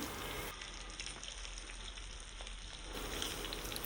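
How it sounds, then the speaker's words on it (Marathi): Semolina-coated Bombay duck (bombil) fish frying in a pan of hot oil, a continuous hissing sizzle with fine crackle, even and unbroken throughout, quiet and on its own without talk. "सर्व बोंबील तेलामध्ये सोडून झालेले आहेत आता ते साधारण पाच ते दहा मिनटं एक साईड पूर्णपणे कडक होईपर्यंत शिजून द्यायचं आहे"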